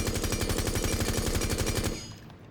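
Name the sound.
Sledge's rifle firing without recoil control in the video game Rainbow Six Siege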